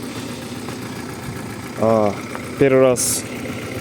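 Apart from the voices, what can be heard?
Audi 80 engine idling with a knocking sound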